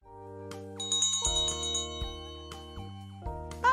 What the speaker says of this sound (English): listen for the language learning bell